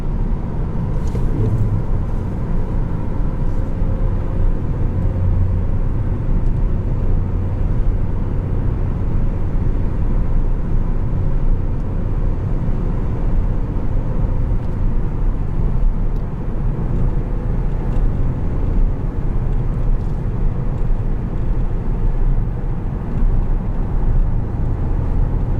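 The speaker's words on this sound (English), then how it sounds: "I'll show you the high-speed handling of this car, as well as the characteristic of lift-off oversteer." A 2018 Ford Focus ST cruises at high speed, its engine and road roar forming a steady, loud, unbroken rumble heard from inside the cabin, with no talking.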